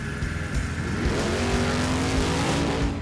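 A car engine revs loud and close with its exhaust cutout open, a raw, rasping roar with rising pitch sweeps and no voices over it.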